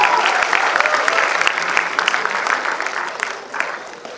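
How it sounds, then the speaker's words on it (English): An audience applauds at a college alumni event honouring teachers, a steady dense wash of clapping that holds for the whole stretch and thins slightly near the end. "So a big round of applause to our wonderful teachers here."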